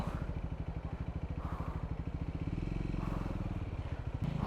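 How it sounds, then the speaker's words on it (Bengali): A motorcycle engine chugs in a steady fast rhythm at close range while crossing a hanging suspension bridge on a mountain ride in Nepal, with faint clatter from the bridge and no talk. "বাইক নিয়ে একটু পারাপার হব"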